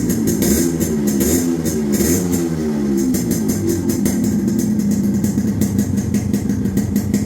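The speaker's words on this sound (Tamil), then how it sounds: "இந்த வண்டியோட பீட் சவுண்ட் கேட்டிருப்பீங்கன்னு நினைக்கிறேன்." A restored Yamaha RX100 motorcycle engine runs steadily close by, with a throbbing two-stroke beat and a few brief revs at the start, alone without talk.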